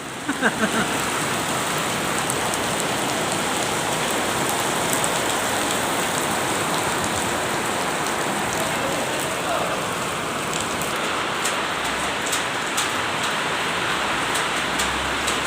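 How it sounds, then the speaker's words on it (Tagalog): Heavy rain mixed with hail pours steadily onto a surface, a dense, unbroken hiss that stays loud and close throughout. "Lakas ang ulan."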